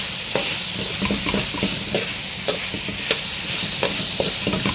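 Pancit canton noodles are stirred and fried in a hot pan, a loud continuous sizzle broken by repeated scraping and tapping strokes of the utensil against the pan, with no talking.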